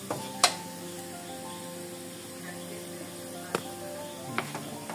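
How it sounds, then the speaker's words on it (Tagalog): Garlic fries in a pan until brown, a steady soft sizzle running the whole time, broken by a few sharp clinks of a utensil against the pan. "kailangan brown yung bawang para mas mabango"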